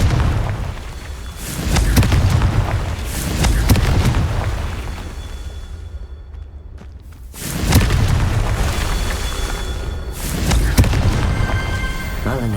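Two booming Confringo spell explosions in Hogwarts Legacy, each a loud burst with a rumbling tail, separated by a brief near-silent gap; another smaller blast follows near the end.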